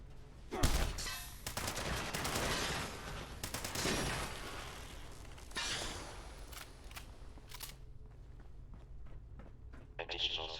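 The Fixer, a combat rifle variant, fires in a video game as sharp bursts of gunfire. Several separate volleys ring out over a steady game background, and a voice talks at points.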